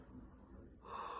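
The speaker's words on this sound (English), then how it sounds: "Don't know why I yawned just there, but I did." A person yawns close by: a long, breathy inhale swells into a louder, voiced, drawn-out exhale near the end, with no talking.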